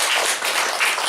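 A short burst of audience clapping at a lecture, a dense patter of many hands filling about a second, close and fairly loud, with no voices over it.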